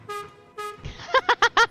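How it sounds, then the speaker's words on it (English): War horn in the video game Void Train: two short tonal horn blasts, followed by a rapid series of clipped honks, close and loud, with a voice mixed in. "Fear our mighty war horn!"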